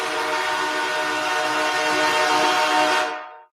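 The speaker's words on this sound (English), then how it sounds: "That is the buzzer signaling the end of the first period." A buzzer marking the end of the first period, one loud sustained horn-like blast that holds steady for about three seconds before cutting off sharply.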